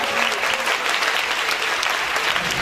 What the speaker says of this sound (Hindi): जोरदार तालियां बजाएंगे यीशु के जलाल के लिए